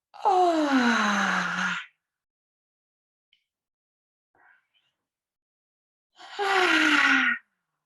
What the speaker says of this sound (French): Il y a peut-être même un bâillement.